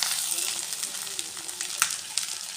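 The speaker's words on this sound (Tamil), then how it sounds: "அதுக்கப்புறம் வெங்காயம் போடுங்க." Onions frying in oil with fennel seeds and curry leaves for a prawn gravy, a bright close crackling sizzle with a few stirring knocks.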